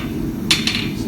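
A hammer strikes a chef's knife blade during forging: two bright metallic hits land close together, the first louder, over a steady low background hum.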